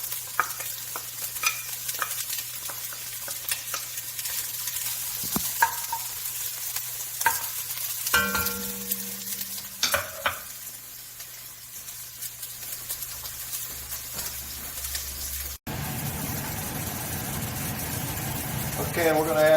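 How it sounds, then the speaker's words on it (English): Onions sautéing in Italian olive oil in a pot, a steady loud sizzle with occasional stirring clatter and a low engine-like hum underneath, while a person talks over it. "onions and saute them."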